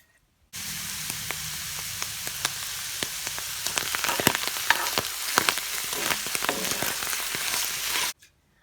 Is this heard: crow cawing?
no